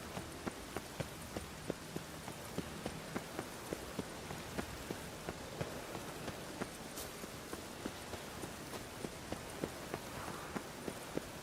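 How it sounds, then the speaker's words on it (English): Steady rain in The Witcher 3: Wild Hunt patters on a hard surface with scattered sharp drips and taps, a continuous wet hiss throughout with no talking. "Rain makes this city even more dreary."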